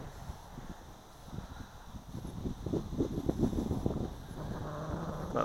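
Wind of about 20 knots gusting across a glider flying field, a low rumbling buffet on the microphone that swells and grows stronger toward the end, with no talk.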